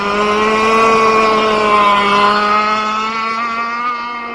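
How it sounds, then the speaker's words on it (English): A radio-controlled boat runs with a new engine that is not yet broken in, giving a loud, close, steady buzzing whine that drifts slightly lower in pitch over several seconds, with no talking. "This is the boat without the engine even broken in on pretty much the maiden."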